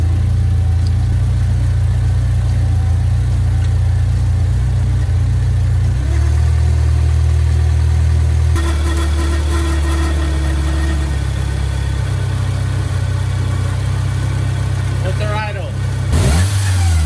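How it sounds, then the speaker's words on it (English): A Toyota 4AGE 16-valve engine in an AE86 idles with a steady low rumble close by after a valve job, its pitch shifting slightly a couple of times, and a brief clunk near the end. "It's actually idling pretty good."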